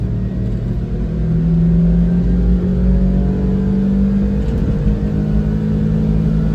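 Mitsubishi Townbox kei van engine pulling hard up a hill with overdrive off, a loud, steady droning rev with a sustained rising engine tone, no voices.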